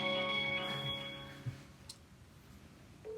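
A telephone rings while a call is being placed, a steady electronic ringing tone that fades over a couple of seconds, with a few faint clicks and no talking.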